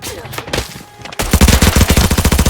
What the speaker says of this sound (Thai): ยิงเรียก